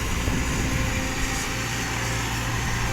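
A SANY SY215C excavator wading through water: a steady, dense diesel engine rumble with broadband wash noise, continuous and fairly close, with no talk.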